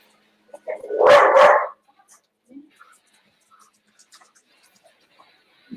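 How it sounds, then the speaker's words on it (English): A dog barks twice in quick succession, loud and close, followed by quiet with a few faint small sounds. "The dog has lots to say."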